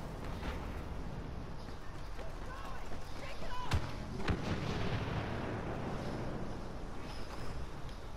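Turret gunfire in Star Wars Battlefront: a dense, continuous barrage of blasts and booms with a few sharper cracks near the middle, heard close and loud throughout.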